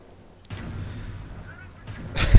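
Artillery fire pounding a base in the Company of Heroes video game, a sudden blast followed by rumbling that swells into a loud, close explosion at the end.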